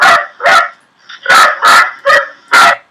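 A designed dog bark sound effect, adjustable for the dog's age and size, fires six loud, punchy barks in a quick, fairly even rhythm with a small yip between, close and alone.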